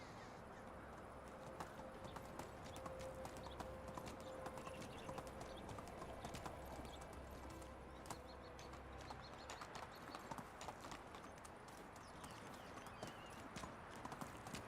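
Horse hooves clip-clop in a steady, quick gallop rhythm inside the medieval village game Medieval Dynasty, faint and continuous over ambient outdoor game sound with occasional bird calls.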